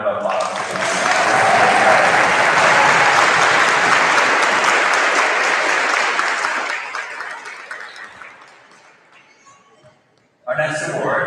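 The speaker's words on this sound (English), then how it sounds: "Let's give one more round of applause." A loud, steady round of audience clapping fills a middle school 8th grade awards ceremony for several seconds, then tapers off into quiet before a voice begins speaking at the end.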